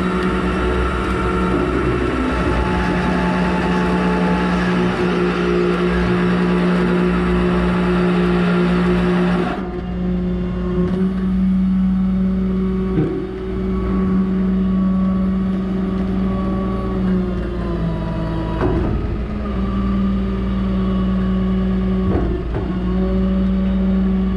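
A car is winched onto a tow truck with a snatch block, a loud steady hum of machinery that drops in level partway through, then continues with a lower drone marked by occasional creaks and clunks, without speech.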